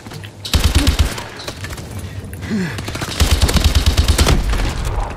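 Sustained rapid bursts of LMG machine gun fire in COD Advanced Warfare Exo Survival, loud and close in two long strings with a short gap and a voice shouting between them.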